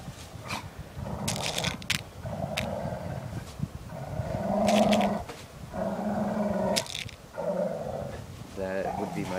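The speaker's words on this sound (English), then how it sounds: "That would be my dog." A dog growls and snarls in low, rumbling stretches with a few sharp outbursts, close by and fairly loud, near an air pistol being reloaded outdoors.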